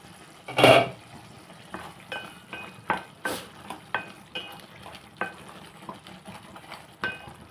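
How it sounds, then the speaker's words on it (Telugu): A utensil scrapes and clinks through a ridge gourd fry in a pan, starting with one loud scrape followed by a steady run of lighter stirring strokes, close by with a faint sizzle beneath. "ఒకసారి మనం కలుపుకుందాం"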